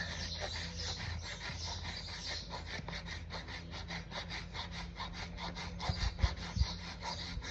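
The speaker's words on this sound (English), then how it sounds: "Take it off with the rasp." A farrier's rasp files down a horse hoof during trimming to smooth nipper marks, with steady rhythmic back-and-forth scraping strokes, close and continuous, and a few heavier knocks near the end.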